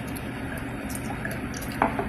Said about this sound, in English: all you do basically is you pour basically a 1 ounce shot in the glass